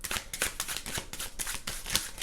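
A deck of tarot cards is shuffled by hand during a card reading: soft, rapid papery riffles and slaps in quick uneven bursts, close and fairly quiet, with no talking.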